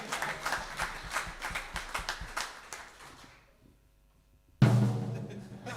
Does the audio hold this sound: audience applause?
yes